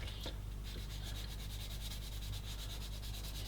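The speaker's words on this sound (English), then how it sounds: "I'm going to be sanding." Close, steady sanding of white plastic filler on a 1/16 scale jeep model kit: rapid rhythmic back-and-forth rubbing strokes of abrasive against a hard surface, continuous with no talking.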